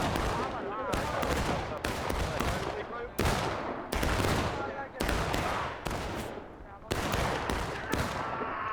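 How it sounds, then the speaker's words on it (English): Dense, sustained volleys of musket and rifle fire in a Civil War video game battle, shots crackling and overlapping almost continuously, loud and close, with brief gaps between bursts. "This is a great extended shootout by the Union."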